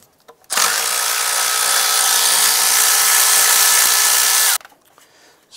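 A power tool whirs continuously for about four seconds while removing a bolt during an air intake install on a 2001-2005 Honda Civic, starting and stopping abruptly, loud and close.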